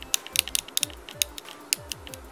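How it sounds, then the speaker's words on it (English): Keys on a Razer Ornata keyboard click in quick, uneven succession, each press a crisp, close tick with a light clack beneath it, heard alone with no speech. "Taking a closer look, that clicky sound comes from this blade back here"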